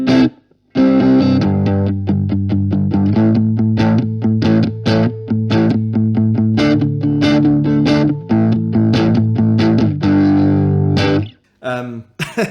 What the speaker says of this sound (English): it just invokes that sort of great Marshall crunch tone